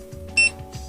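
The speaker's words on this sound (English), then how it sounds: "My timer just beeped because I nudged it." Digital kitchen timer left switched on gives a single short, bright electronic beep after being bumped, heard close against a quiet background hum.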